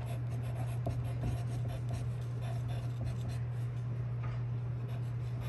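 A pencil scratching out a name on paper in a classroom, soft continuous scraping strokes under a steady low hum.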